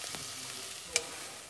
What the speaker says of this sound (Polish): Tak tutaj kolega robi wspaniały sos.